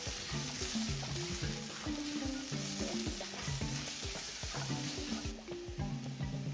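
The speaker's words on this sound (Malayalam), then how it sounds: "ഇത് നന്നായിട്ട് ഇതിൻ്റെയൊക്കെ പച്ചമണം മാറുന്നിടം വരെ ഒന്ന് വഴറ്റാം" Coriander powder and garam masala being sautéed and stirred in a pan, with a steady close sizzle and repeated scraping strokes of a spoon throughout, no voices.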